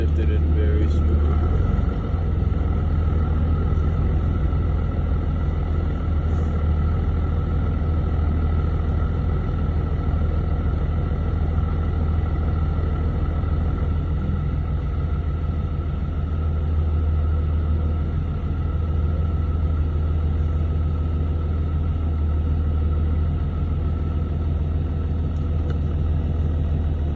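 A 4th gen Cummins diesel truck with a rebuilt G56 transmission backs up in reverse, its steady low engine rumble droning close and constant throughout while someone talks over it.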